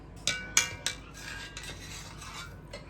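A metal spoon scraping and clinking against a pan while spooning sauce over braised hoisin pork: three sharp close clinks, followed by softer scraping and shuffling as the meat is moved.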